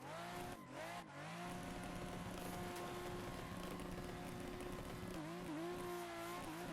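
A drift car enters a corner after a clutch kick, its engine revving high and steady while the tires squeal loudly and continuously through the slide, with a brief dip in revs near the start.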